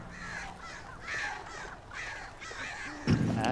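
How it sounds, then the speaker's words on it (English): Crows caw repeatedly inside the Alan Wake video game, a flock of harsh, rhythmic calls in steady bursts. A louder thump or impact cuts in near the end. "That's a lot of crows."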